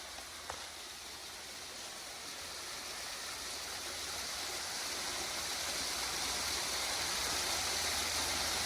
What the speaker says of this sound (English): It's a waterfall kind of day.